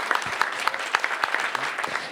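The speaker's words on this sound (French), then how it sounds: "Merci beaucoup, on peut les applaudir." Audience applause for presenters at a digital-inclusion conference in France, a moderate spread of hand claps from a seated crowd, steady over about two seconds with a few sharper claps standing out.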